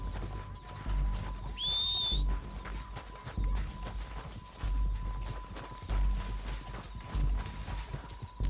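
Horses in the Red Dead Redemption II video game: a shrill whinny rises briefly near the start over steady clip-clop of hooves, with recurring heavy thumps and a faint constant tone underneath, no one speaking.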